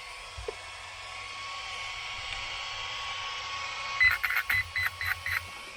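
An Arrma RC car's speed controller starting up, giving a quick series of about six short electronic beeps close by, following a steady fan-like whir from a small battery-powered blower.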